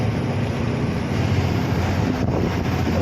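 Cool wind rushes steadily past the microphone at a large dam between hills, a loud continuous buffeting roar with no talking.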